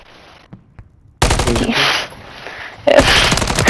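Gunfire in a competitive shooter video game comes as a loud, dense burst of rapid shots after a quiet start, followed by a steady noisy stretch and then another sharp burst of fire.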